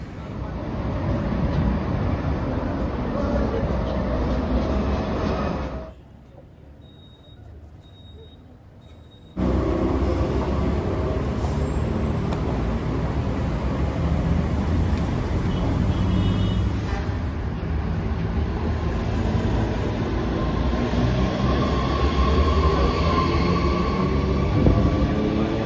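Mexico City light rail train running to Xochimilco: a steady loud rumble of wheels and motors with broadband rattle, a brief muffled drop near six seconds as if passing through a cut or enclosure, then the continuous roar returns.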